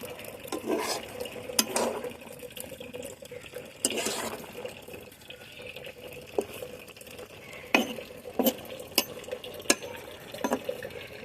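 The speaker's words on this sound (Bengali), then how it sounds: "এখন শাক আর মাছগুলো একটু নাড়িয়ে দেবো" Greens and fish are stirred in a pan, with intermittent scraping and clattering of a spatула against the pan over a faint simmering background, no speech.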